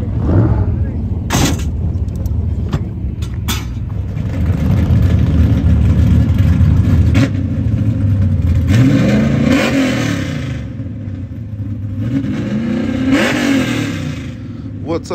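A turbocharged VW Beetle revs hard during street racing in Mexico, its engine note rising and falling in loud surges, with crowd chatter and voices mixed in throughout.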